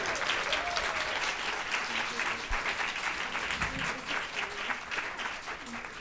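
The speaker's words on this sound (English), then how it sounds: "Another round of applause." An audience at a women's empowerment panel event applauds steadily for several seconds, a dense, even patter of clapping with no voices breaking through.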